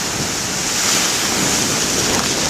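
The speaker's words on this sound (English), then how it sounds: "One more set of big waves before I" Loud, continuous roar of surf with waves crashing close by, mixed with wind buffeting the microphone.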